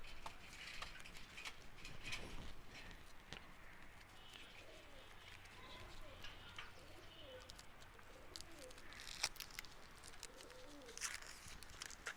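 A pigeon being held in the hand gives soft, low cooing phrases repeated through the middle and end of the stretch, fairly faint beneath outdoor background noise and occasional sharp knocks.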